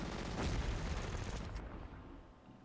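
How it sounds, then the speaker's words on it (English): Fireworks go off outside, heard as a dense stream of distant crackling pops and rumbling booms that ease off after the first second and a half into a steadier background rumble. "A lot of fireworks."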